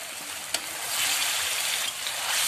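Meat added to a pan of cooked-down spice masala with a little water, giving a steady broadband sizzle and hiss with one sharp clink near the start; no talking.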